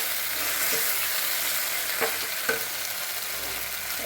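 Potatoes are stirred into a spiced curry frying in a pan, with steady loud sizzling throughout and a few soft scraping stirs of the spoon against the pan.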